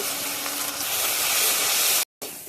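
Ground turmeric, chili, cumin and coriander fry with onion and garlic in a pan, a dense, even, hissing sizzle that fills the clip, cut briefly by a silent gap near the end before resuming.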